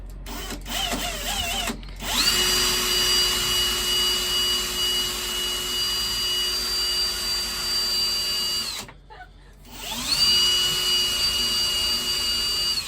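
A power drill spins its bit in a long steady whine, cutting out briefly near the end before starting up again at the same pitch, close and loud.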